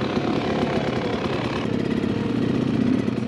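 A detuned 2023 Beta XTrainer 300 two-stroke motorcycle engine runs steadily up close, a dense buzzing putter that holds an even level throughout with no talk.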